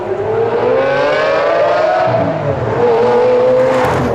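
A Liberty Walk Lamborghini Aventador's loud engine revs up, its pitch climbing and then settling into a steady roar, close by.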